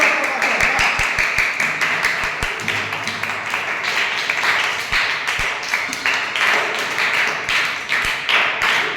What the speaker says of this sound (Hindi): जोरदार ताली हो जाए सामने वाले के लिए।